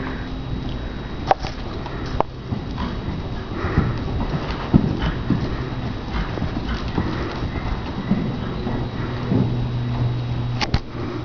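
A horse being schooled in western reining moves at a canter, its hooves thudding in an uneven, repeating rhythm close by, with occasional snorts and sniffs between the footfalls.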